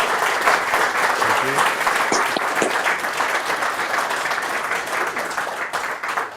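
Audience applause in a lecture hall honoring a speaker, a dense, steady wash of clapping from a sizable crowd that holds for several seconds and gradually tapers, with a brief spoken thanks heard over it.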